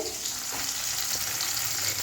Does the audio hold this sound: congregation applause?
no